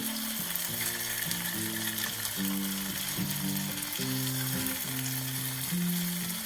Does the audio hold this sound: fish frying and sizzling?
yes